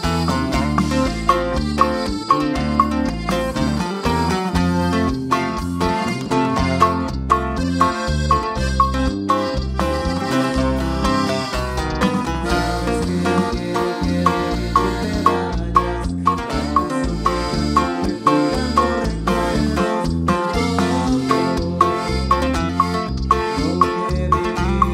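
A regional Mexican song plays on a radio broadcast marking an anniversary celebration, with dense rhythmic instrumentation and steady, loud beat-driven music throughout, no talk over it.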